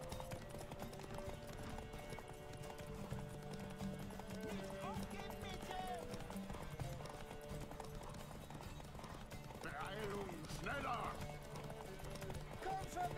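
Hooves clip-clop in a steady galloping rhythm, fairly faint, under a blend of music and game sounds from The Witcher 3 on PC.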